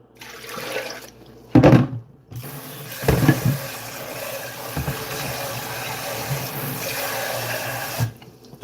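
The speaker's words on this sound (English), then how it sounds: "put some water in there." Water runs steadily into a blender jar holding mango, carrot and ginger for a juice blend, a continuous close splashing pour of several seconds with a few knocks and bumps at the start.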